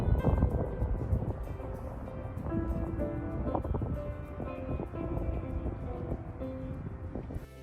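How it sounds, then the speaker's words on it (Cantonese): Strong wind gusts across a tulip festival flower field, rumbling against the microphone while someone plays a familiar tune on an outdoor piano nearby. "雖然風聲大咗啲"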